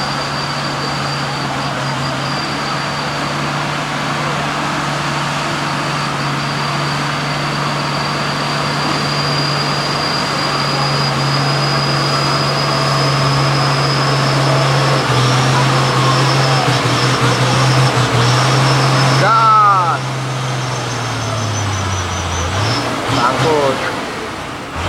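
A loaded truck coming from the Manado direction rumbles past with a steady low engine drone and sustained whine. The engine shifts pitch near the end as the truck moves by, loud and near, amid stormy wind and rain.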